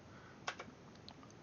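Keys on a computer keyboard tap quietly: one sharper keystroke, then a few lighter clicks in a short, sparse burst, close by and faint.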